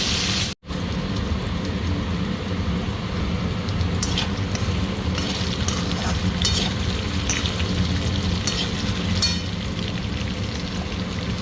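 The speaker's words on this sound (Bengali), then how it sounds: "ভালো করে ফ্রাই করে নেব।" Potatoes and bitter gourd frying in hot oil in a pan, a loud continuous close-up sizzle with occasional crackles and stirring scrapes, no speech.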